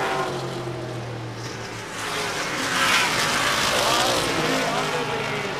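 Vintage race cars roar around La Crosse Speedway in a sustained, loud engine drone that swells toward the middle, several cars blending into one continuous wash of racing noise.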